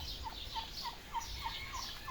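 A male turkey on a breeding farm gobbles faintly and at a distance, a quick, regular series of short calls over a steady background hiss.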